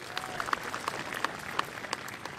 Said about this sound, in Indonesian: Hadirin kami mohon tepuk tangannya yang meriah.